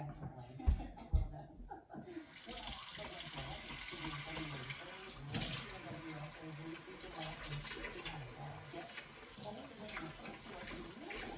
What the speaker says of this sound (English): So let me get my hands all washed up.